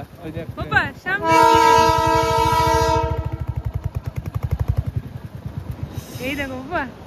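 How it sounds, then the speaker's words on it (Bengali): A toy train on a mountain hill railway approaches with a loud, sustained horn blast followed by a rhythmic chugging engine, then a second shorter horn note; people talk nearby. "বাবা টয় ট্রেন আসছে, টয় ট্রেন।"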